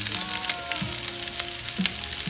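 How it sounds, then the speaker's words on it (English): Steady close-up sizzling and crackling of onions and peppers sautéing in a hot pan, a continuous hiss with a few soft stirring knocks. "We wanna saute onions and peppers."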